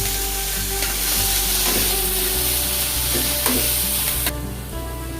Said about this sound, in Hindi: जब तक ये ऑनियन जो है गोल्डन ब्राउन ना हो जाए, तब तक मैं इसको ऐसे ही फ्राई करता रहूंगा।